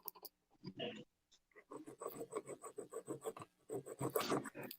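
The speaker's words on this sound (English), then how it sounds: "I got to use a bigger hand file" Hand file rasping against thick aluminum pipe stock for a lightsaber hilt, a run of steady back-and-forth strokes after a few scattered scrapes, close and moderately loud with no talking.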